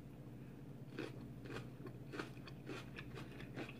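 Crunchy bites of veggie nachos topped with raw, uncooked peppers, jalapenos and shredded lettuce, with several sharp crunching chews spaced through the moment, close and fairly quiet.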